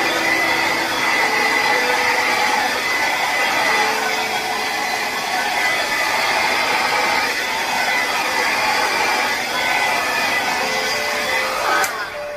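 A hair dryer blows continuously up close over a fluid acrylic paint pour, a loud steady whooshing roar lasting the whole stretch with only slight shifts in tone.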